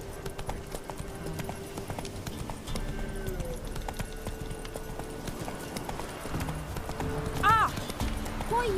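Horse hooves clip-clopping at a run in The Witcher 3, a steady rhythmic beat of hoofbeats with game music and a voice speaking over it, plus a brief snort or whinny near the end.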